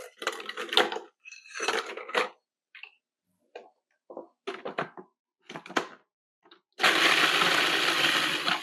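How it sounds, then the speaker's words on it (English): A food processor crushes 10 to 12 sheets of graham crackers for a vegan no-bake cheesecake crust, heard as several short, loud bursts of crunching and rattling separated by pauses, ending in a sustained roaring whir. "10 to 12 sheets of graham crackers that we'll put in a food processor"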